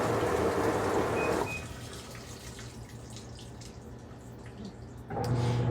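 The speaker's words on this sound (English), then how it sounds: "I'm gonna add just a bit more water, just to make sure it rinses out good." Water pours into the tub of a Magic Chef 1.6 cubic foot washing machine, a loud rushing fill that drops to a softer, steady trickle before surging loudly again at the end.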